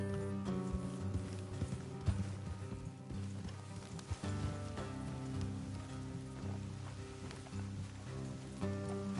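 Horses' hooves clip-clop steadily at a walking pace in the Red Dead Redemption 2 video game, fairly quiet and continuous, with a soft rain-like hiss underneath and no talking.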